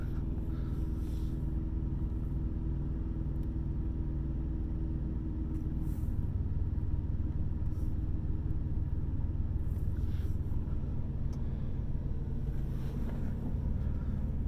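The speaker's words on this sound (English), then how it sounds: "I heard the APU bog down a little bit." A truck's auxiliary power unit runs with a steady low engine rumble throughout, constant and fairly close, with a slight dip in tone partway through as it bogs down; no voices.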